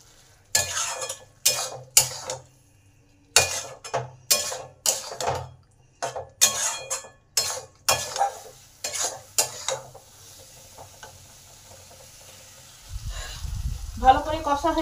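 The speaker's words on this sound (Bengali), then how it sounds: "কচুগুলো দিয়ে ভালো করে মশলার সাথে একটু কষে নেব।" Fried taro pieces stirred with spice paste in a pan, a spoon or spatula scraping in quick repeated bursts over a soft sizzle, the strokes close and fairly loud, then fading to a low hiss before a final rumble.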